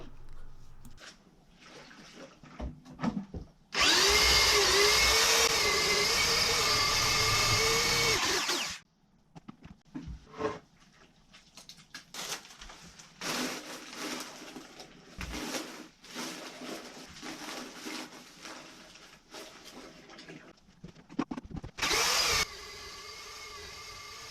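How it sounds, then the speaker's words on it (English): A power drill on its slowest speed churns paper and water in a bucket sealed with silicone around the top, giving a loud steady whirring burst of about five seconds, then quieter intermittent knocks and sloshing, with a shorter loud burst near the end. "I realised that the drill was on the slowest speed."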